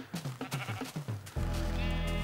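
Sheep in the video game Minecraft bleat several times in short, rhythmic calls, followed by a sustained, loud, tonal game sound with no talk.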